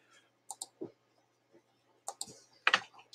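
A computer mouse clicks in a quiet room: a few sharp, close clicks, singly and in quick pairs, separated by silence, with some faint handling sounds and no speech.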